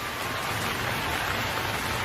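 Steady rain pours down on a rainy day in a Bengali cartoon, a dense, even hiss of falling drops with no pauses and no voices.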